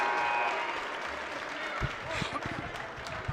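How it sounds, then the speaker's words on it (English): Steady applause from a student section and crowd noise at a high school boys' varsity basketball game in a gym, with a ball bouncing and someone talking over the clapping. "North Andover student section applauding that."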